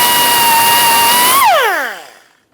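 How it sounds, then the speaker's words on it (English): An air-powered cutoff wheel scores lines into ball joint rivets on a 2013-2022 Buick Encore, a loud piercing high whine held steadily, then dropping in pitch as the tool spins down and fades out. "We're going to whizzer a couple of lines in here so our chisel can chisel these off."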